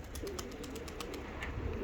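Tumbler pigeons coo softly and quite far off among a flock, faint calls rising over a low steady background.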